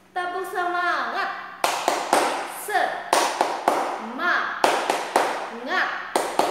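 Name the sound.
children clapping hands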